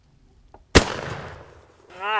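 A single loud shotgun blast, fired at a turkey target 70 yards away, cracks sharply after a near-silent pause, followed by a decaying boom and then a voice starting to speak.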